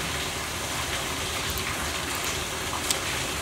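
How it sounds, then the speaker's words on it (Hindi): Heavy rain pours steadily and loudly, a dense continuous hiss of drops on surfaces filling the background with no speech. "और बारिश तो इतनी तेज़ हो रही है कि आपको नॉइज़ तो जा ही रहा होगा"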